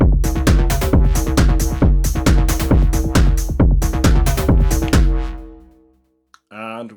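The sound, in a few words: Elektron Analog Rytm drum machine example pattern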